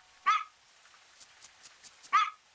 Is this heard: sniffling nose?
no